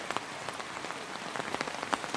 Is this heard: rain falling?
yes